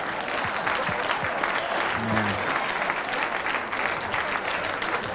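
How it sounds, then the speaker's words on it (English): Sustained, dense applause from a comedy stand-up audience at an HBO taping, steady and full, with a brief vocal sound from the crowd partway through. "Thank you for the heretical applause."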